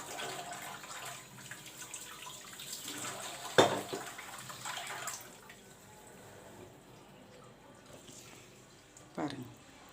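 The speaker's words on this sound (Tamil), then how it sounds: "இப்படி குக்கர் மேலே தண்ணி விழுகிற மாதிரி காட்டிட்டிங்கன்னா அந்த ஆவியெல்லாம் போயிடும்" Tap water runs and splashes over a pressure cooker in a kitchen, cooling it to release steam, a soft uneven trickle with a sharp clank partway through and another knock near the end.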